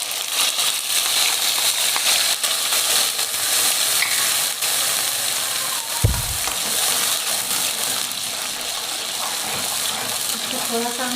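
Ground spice masala fries in a pan with oil for minced-meat keema, giving a continuous loud, bright sizzle. A brief low thump sounds midway and the hiss continues unbroken.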